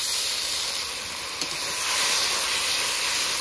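Water poured into a pan of sizzling spice paste with ground dried chilli sets off a steady, loud steamy hiss that carries on evenly, with one brief clink partway through and no voices.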